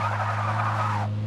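Nissan 350Z with a welded differential hopping and skidding, a continuous loud tire screech over steady engine drone that cuts off abruptly near the end.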